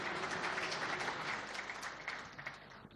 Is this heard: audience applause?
yes